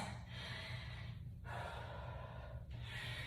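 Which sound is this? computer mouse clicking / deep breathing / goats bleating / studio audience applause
deep breathing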